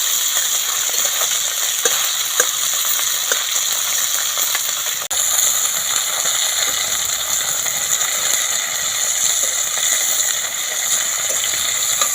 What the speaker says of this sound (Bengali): এভাবে নাড়াচাড়া একটু করে দিতে হবে এভাবে একটু নাড়াচাড়া করলে মাছগুলো একটু কম বেঁচে যায়